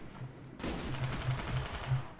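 Rapid automatic gunfire in Call of Duty Black Ops on PC, a sudden dense burst that keeps rattling steadily at moderate loudness with no talk.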